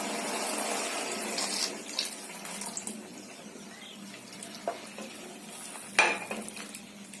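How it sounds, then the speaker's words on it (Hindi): Milk is poured into carrot halwa cooking in a pan, a soft continuous splashing and trickling with occasional clinks of a utensil against the pan. "चीनी हमारे अच्छे से मेल्ट हो चुकी है और अब हम इसमें आखिरी में दूध डालेंगे।"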